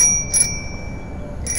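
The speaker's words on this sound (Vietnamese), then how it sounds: "Chuông" An aluminium handlebar bell on an Albet 3-speed sport bicycle rings twice, short bright chimes close by with a quiet gap between them and no voices.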